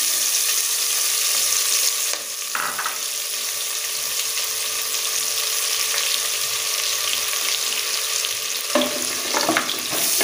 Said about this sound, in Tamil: இப்போ வெங்காயம் சேர்த்துக்கலாம்.